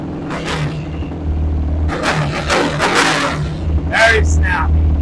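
A dirt bike engine fitted with a Rossier exhaust revs hard in short bursts, rising and falling with a raspy exhaust note, close by, with voices talking over it.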